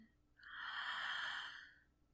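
A single slow, audible breath drawn in during a guided mindfulness meditation, swelling smoothly, then fading over about a second and a half, close and alone without talk.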